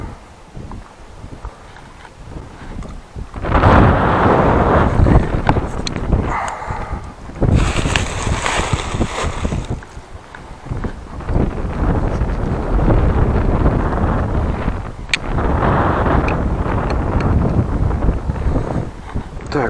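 Heavy wind buffets the microphone in loud rumbling gusts on the Mediterranean coast at Marmaris, Turkey, during rockfishing, strongest in the middle and again near the end, with brief faint voices underneath.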